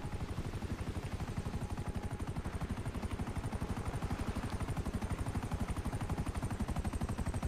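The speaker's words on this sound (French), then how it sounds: "C'est beau quand même une Rolls Royce avec un hélicoptère à côté qui se pose." A helicopter sets down beside a Rolls-Royce in a GTA roleplay game, its rotor thumping in a fast, even, continuous beat, fairly faint and steady throughout with no voices.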